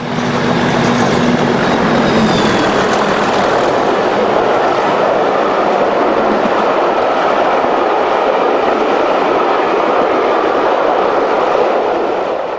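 Class 37 diesel locomotive 37197 in green livery hauls a UK charter railtour between Skipton and Carlisle on the Settle and Carlisle line, a loud, close, sustained roar of engine and rolling wheels with no talking.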